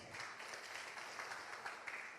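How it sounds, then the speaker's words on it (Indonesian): A church congregation claps at a Sunday worship service at Rock Ministry Mataram, giving a steady, fairly faint wash of applause that continues for the whole stretch without speech. "Berikan tepuk tangan dulu buat Allah kita, saudara."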